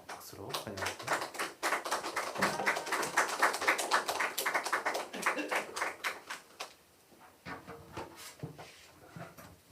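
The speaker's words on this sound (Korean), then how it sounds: "박수로 환영합니다." A church congregation at a Korean mission school session claps to welcome a speaker, with brisk rhythmic clapping from a modest crowd that builds, holds for several seconds, then thins into scattered claps.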